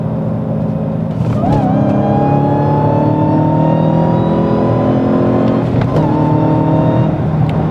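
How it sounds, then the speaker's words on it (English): A manual Dodge Hellcat with a supercharger accelerates hard on a highway, its loud engine roar climbing steadily under a rising supercharger whine, with two brief gear-shift dips along the way. "Plus you got that whine. So the supercharger is doing something also."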